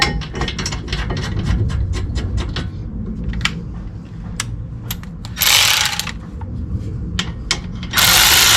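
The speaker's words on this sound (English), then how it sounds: "Tightening up my bolts." A hand ratchet tightens the brake caliper mount bolts on a 2016 Toyota Sienna SE during a front brake job. Quick, loud clicking runs come in bursts, mixed with metallic clanks and two harsh noisy bursts.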